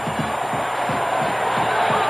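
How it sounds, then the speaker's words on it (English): Delirious basketball crowd at the 1985 Final Four between Villanova and Georgetown, roaring approval in a dense, sustained wall of cheering, with a low rhythmic chant pulsing underneath throughout. "a delirious crowd roars its approval"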